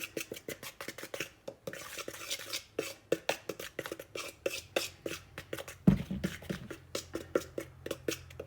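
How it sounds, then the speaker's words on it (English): A fork beats cookie ingredients in a bowl with quick, steady clicking strokes, rapid and regular, close up and soft, with one heavier knock partway through and no voices. "Mix those up with a fork quickly."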